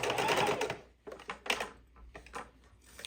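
Sewing machine stitching slowly across an activity fidget quilt past a zipper, a close rattling whir in short bursts with pauses between them.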